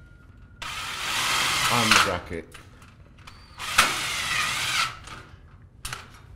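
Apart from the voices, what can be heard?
drilling a pan head screw through a metal bracket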